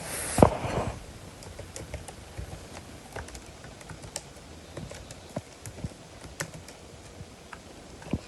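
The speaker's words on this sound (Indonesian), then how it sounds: "saya ketikkan secara manual saja" Manual typing on a computer keyboard while working on a PHP and Laravel web project, a steady run of light, irregular key clicks near the microphone after a brief louder knock at the start, with no talking.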